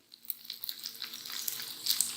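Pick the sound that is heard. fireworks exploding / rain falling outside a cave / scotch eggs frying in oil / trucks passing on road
scotch eggs frying in oil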